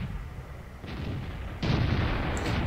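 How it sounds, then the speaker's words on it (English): A heavy tank cannon shot in World of Tanks, a loud booming report as the shell is fired and ricochets, followed by sustained rumbling battle noise with no talking. "That round just ricocheted."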